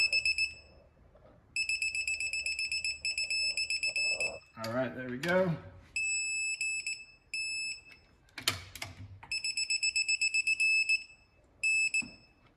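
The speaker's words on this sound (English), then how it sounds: "now we got beeping red. That means we're at our max torque." Bursts of rapid high-pitched electronic beeping from a torque wrench at maximum torque, 25 foot-pounds, repeat loudly in several runs, with someone speaking briefly between them.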